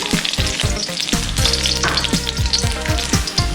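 Sliced garlic, chili pepper and salt sizzle in olive oil in a pot, a dense continuous crackle with occasional stirring knocks, close and loud, with no voices.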